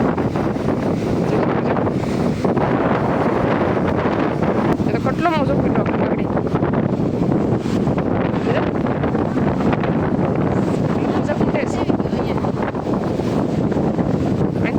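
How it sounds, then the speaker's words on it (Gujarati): Strong wind buffets the microphone in a constant roaring rush, while a person speaks briefly beneath the gusts. "એક પવન આવે ને તો આપણે ઉડી જાય એટલો પવન છે"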